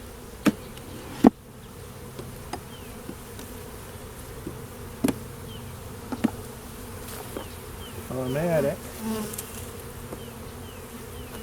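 Honey bees buzz steadily around an open hive during a spring inspection, a soft continuous drone with a few sharp knocks of hive equipment and a brief word from a nearby voice.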